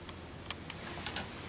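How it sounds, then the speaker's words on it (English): Computer keyboard keys on a Windows 8 PC tapped a few times, soft scattered clicks followed by two sharper, closer key presses in a quiet room. "or you can just press the start on the keyboard"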